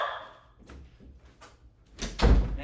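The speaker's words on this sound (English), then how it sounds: "Close that door." A door swings shut with a solid thunk indoors, preceded by faint shuffling and movement, the closing impact landing loud and low near the end.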